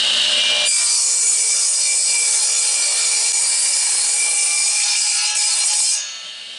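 A power saw cuts across the end of a lumber board to square it for a hive box, a loud, steady, high-pitched whine with abrasive cutting noise lasting several seconds before easing off at the end.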